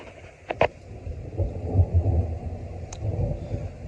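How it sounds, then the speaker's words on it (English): Low thunder rumbles through a thunderstorm with lightning, building to a rolling grumble near the middle, with a few sharp clicks and a faint rain-like hiss around it. "the lightning and thunder is what's impressive"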